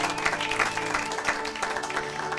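A church congregation claps together in sustained applause during a French-language worship service, a dense continuous patter of many hands filling the room at steady loudness with faint voices mixed in.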